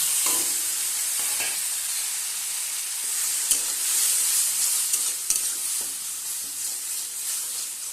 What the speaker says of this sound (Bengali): এটাকে প্রায় নাড়তে নাড়তে প্রায় একটা শুকনো মন্ড তৈরি করে নিতে হবে